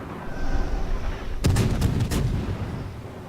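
Warship guns on the Atlanta cruiser in World of Warships fire a rapid salvo of several sharp booms in quick succession, loud and close over steady background sea and engine rumble.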